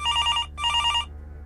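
A telephone rings in two short trilling bursts separated by a brief gap, clear and electronic over a low hum, then cuts off.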